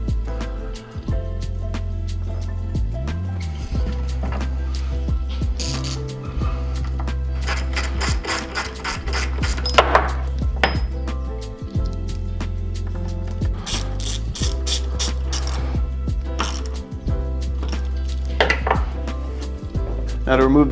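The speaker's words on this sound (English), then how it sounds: "Make sure as you tighten these down to torque them in a star pattern." A torque wrench tightens the bolts of a Gates belt drive in a star pattern, giving repeated sharp ratcheting clicks in short bursts over a steady low background hum.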